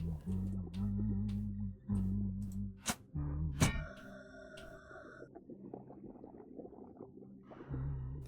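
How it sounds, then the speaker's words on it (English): Treasure detection sound in the diving video game Dive or Die: Children of the Rain, a low sonar-like tone that repeats in short pulses, then bright ringing chime tones, with a soft rumbling game ambience after. "It's the sound of treasure?"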